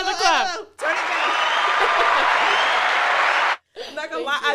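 Lively applause from a small group, a dense burst of clapping lasting about three seconds, with people talking and laughing just before and after it.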